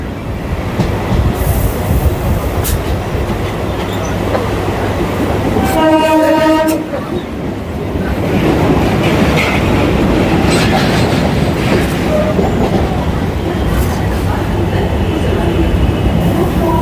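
A local train on the Sealdah suburban line pulls out alongside toward Budge Budge, its wheels rumbling close and steady, with a brief horn blast midway before the rolling noise resumes.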